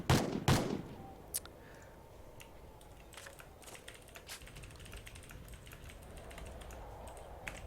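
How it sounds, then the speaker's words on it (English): Rapid keyboard typing at a computer during an esports match broadcast for an online competition, a steady scatter of light clicks that follows two loud knocks at the start, close and fairly quiet, with no talking. "silence is because I am typing quite a lot to sort another issue happening in this competition"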